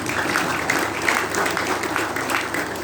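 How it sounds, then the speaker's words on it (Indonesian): An audience claps at a national dialogue lecture hall event, a continuous wash of applause with a murmur of voices underneath. "Kita beri tepuk tangan untuk semuanya."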